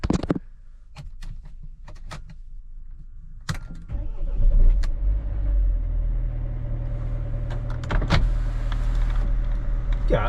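A Mercedes Vito W639 Travelliner van is started: a few sharp clicks and clunks, then the engine catches and settles into a loud, steady idle hum with some further knocks, close by.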